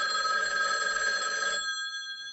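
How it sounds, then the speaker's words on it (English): A telephone rings with a bright, sustained electronic bell tone, loud and close, cutting off partway and leaving a faint fading ring. "The phone rings."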